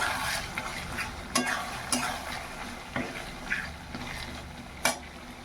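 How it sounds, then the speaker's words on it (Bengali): Meat sautés with tomatoes in a pan, stirred briskly, with a constant sizzle broken by regular sharp scrapes and clacks of the spoon against the pot, close up and with no talking. "এর মধ্যে টমেটো দিয়ে দিচ্ছি টমেটো দিয়ে একটু কষিয়ে নিয়ে তারপরে আলুগুলো দিয়ে দেবো"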